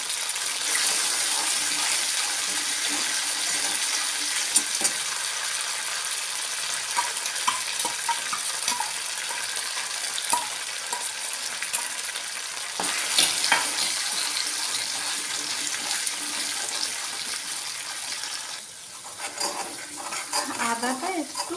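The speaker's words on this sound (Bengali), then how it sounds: "আদাটা একটু কষিয়ে নিয়ে একটু জল দিয়েছি" Ginger frying in a pan with water added, a steady soft sizzle with scraping stirs and occasional clinks of utensil on metal, continuing quietly for about twenty seconds.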